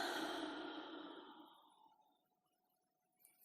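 A slow, deep breath out during a quiet guided meditation, a soft airy exhale that starts fairly full and gradually fades into near silence, close and alone.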